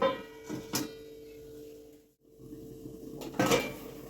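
A metal lid set over a cooking pot of vegetables in a Bengali kitchen: a couple of faint clinks and taps, a brief hush, then a louder clatter as the lid settles.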